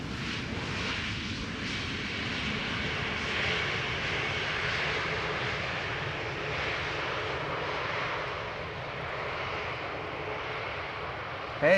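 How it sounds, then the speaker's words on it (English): Airbus A320neo jet arriving at Amsterdam Schiphol Airport, a steady, broad engine roar sustained throughout at moderate distance, with no talking. "arrived from London Luton, A320neo, 41 minutes on the way"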